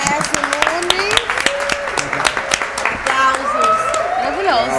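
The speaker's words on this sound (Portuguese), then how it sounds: "Vamos bater palmas para Ernesto Nunes." Applause for a guest on a podcast set, a short run of sharp claps mixed with voices talking and exclaiming over it.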